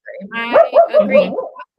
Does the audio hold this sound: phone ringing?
no